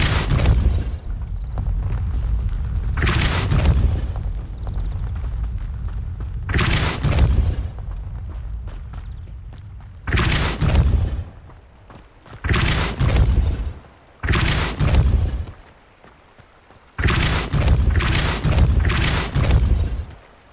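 Depulso and Protego spell blasts in the Hogwarts Legacy video game, a series of loud booming impacts in uneven bursts separated by short quieter gaps.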